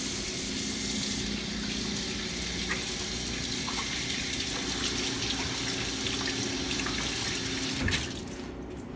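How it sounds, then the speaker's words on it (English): Tap water runs steadily into a sink while hands are washed before making brownies, a continuous close splashing hiss with no talk, ending with a brief clatter as the flow stops. "your first step is you're going to want to wash your hands"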